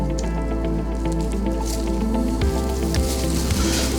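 A brush spreads an olive oil, lemon juice and herb marinade over an ear of corn, giving soft wet squishes and small drippy smacks close up under a steady background hum.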